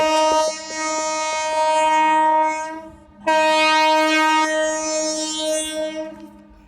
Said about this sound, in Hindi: इसमें आप ट्रेन का हॉर्न भी सुन रहे हैं